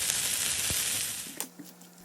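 Chopped potatoes hit hot olive oil in a heated skillet and set off a steady close sizzle. The sizzle dies away toward the end, leaving quieter crackles.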